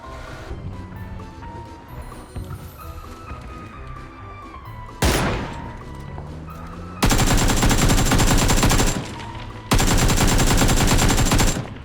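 Video game gunfire, scattered shots and distant rumbling at first, then a sharp blast followed by two long, dense bursts of rapid automatic fire, loud and close.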